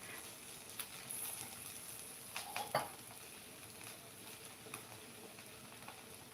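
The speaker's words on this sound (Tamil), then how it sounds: "வெண்டைக்காயில் நான் ஒன்றுமே போடல அது வெறும் எண்ணெயில் அது வதங்கிறதுக்காக போட்டு வச்சுருக்கேன்" Okra (ladies finger) cooking in plain oil in a pan, a faint steady sizzle with scattered soft clinks and stirring taps.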